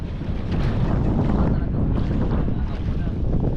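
Strong wind buffets the microphone in a heavy, continuous low rumble that rises and falls in gusts, with no clear voices over it.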